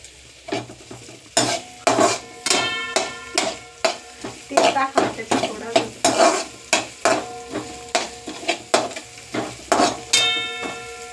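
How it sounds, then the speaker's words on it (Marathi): Ingredients sautéing on high heat in a pan until reddish, with a constant sizzle under loud, rhythmic metal spatula scrapes and clanks against the pan, close up and repeating steadily. "ह्याला पण चांगलं असं परतून घ्यायचं. थोडासा लालसर कलर येऊन द्यायचा याला"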